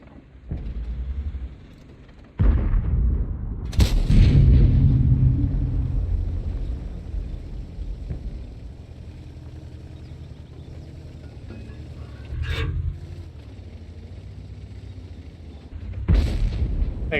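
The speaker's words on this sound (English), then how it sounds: "Like artillery drops bombs here." Artillery fire in World of Tanks: several heavy booms spaced across the stretch, one loud blast followed by a long rumbling decay, then quieter distant impacts and mechanical creaks over a steady low background.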